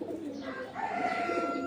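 Racing pigeons cooing, a soft low throaty coo from a bird close by, short and fairly quiet.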